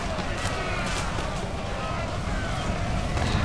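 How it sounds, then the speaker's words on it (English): Dense, continuous battlefield gunfire from the strategy game Empire: Total War, a steady wash of musket and cannon volleys rumbling without pause, loud and close throughout, with a voice faintly talking over it. "They are shooting at us"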